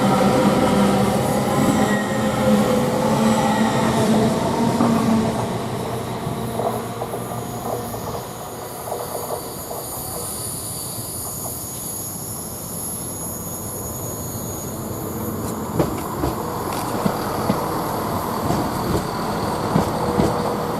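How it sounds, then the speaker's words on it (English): An East Midlands Railway train departs Grantham station, its engine and wheels rumbling loudly at first, then easing into a softer hum with squealing tones and a few sharp clicks as it pulls away. "we got a set of East Midlands Railway now departing, as you probably can hear"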